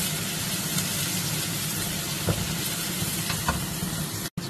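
Onions sizzle steadily in a hot pan with a pinch of salt, a continuous close frying hiss with occasional stirring clicks and no talking.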